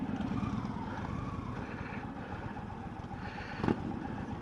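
A 2020 Indian Chieftain Elite motorcycle engine running while riding, a low steady rumble with a faint muffled drone and one brief louder bump, no voices.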